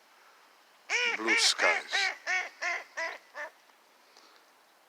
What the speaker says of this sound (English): That's Mother Nature, those ducks, eh? Or the sound of them.